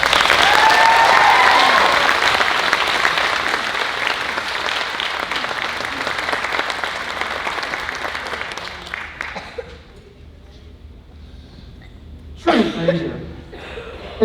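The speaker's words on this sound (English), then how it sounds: "Give him a round of applause." An audience at a school band showcase gives loud, sustained applause that slowly fades. Scattered laughter and chatter follow, then a brief burst of crowd noise near the end.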